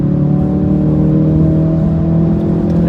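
A 2017 Ford Focus RS engine pulls hard under acceleration, its rowdy intake snarl and steady rising harmonics loud and close throughout, with no talking over it.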